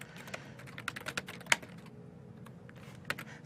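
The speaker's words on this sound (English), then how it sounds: "I'm being yelled at for typing too loud" Typing on a computer keyboard while coding, a quiet, close run of irregular key clicks with a few sharper, louder strokes and no talk.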